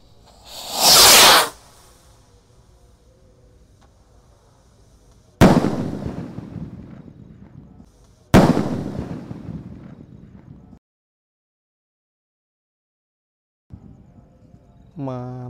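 Firecrackers and fireworks set off at night during Ramadan: a loud hissing whoosh of a launch, then two sharp explosive bangs each trailing off in crackling debris, a brief silence, and a faint rising whistle at the end.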